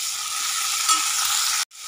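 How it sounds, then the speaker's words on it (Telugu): Onions fry in a pan with green chili and curry leaves, giving a steady, moderately loud sizzle with a soft stirring scrape. The sound cuts out abruptly for a moment just before the end. "ఉల్లిపాయలు మంచిగా ఫ్రై అయ్యేంత వరకు మధ్య మధ్యలో ఇట్లా కలుపుకోవాలి"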